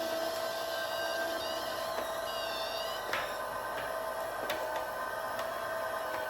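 Electric kitchen juicer running on oranges, a steady faint motor whine with thin tonal hum and occasional small clicks and knocks from the fruit, continuous throughout.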